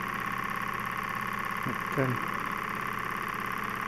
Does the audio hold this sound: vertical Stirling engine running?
yes